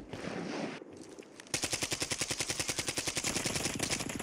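Kastov 545 rifle in Warzone 3 fires a long rapid automatic burst, evenly spaced loud cracks following a brief muffled rumble, with no talking.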